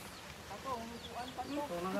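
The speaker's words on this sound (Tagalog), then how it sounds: "Ay, may manok dito." Chickens cluck softly in the background while a person talks over them, the bird sounds intermittent and moderately close.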